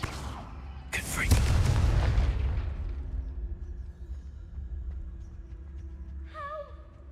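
Confringo blasting spell explosion in the video game Hogwarts Legacy, a sudden sharp crack followed by a heavy booming blast that rumbles and fades over several seconds, with faint game sounds afterward.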